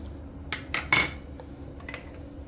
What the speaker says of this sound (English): Also the salt, and you mix it around, and then you're going to coat the fish with it.